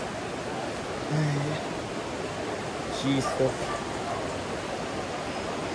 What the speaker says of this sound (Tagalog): Yung tubig baha, napakalaki pa rin